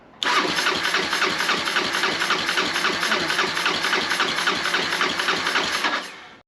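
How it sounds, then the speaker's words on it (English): A motorcycle engine is cranked over at full compression during a compression test, with the starter churning in a fast, even, pulsing rhythm. It is loud and close, starts abruptly and cuts off at the end. "Now when I turn the engine over, it'll be at full compression."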